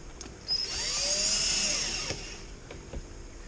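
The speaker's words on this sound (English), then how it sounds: "the drill is set to its minimum resistance. And there it goes." A drill set to its minimum clutch setting whines steadily for about a second and a half, driving a screw, then stops; a few sharp clicks follow in the quiet.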